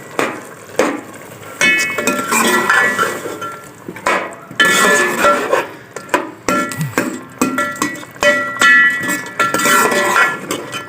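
Mutton curry with ghee stirred in a pot with a ladle, giving repeated metallic clinks and scrapes in an uneven rhythm, close and fairly loud, with thick wet squelching between strokes.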